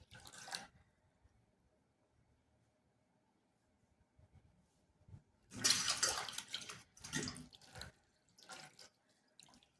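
Water poured in several bursts while rice flour is being prepared in a kitchen, a loud splash followed by shorter separate pours and drips, with no talk.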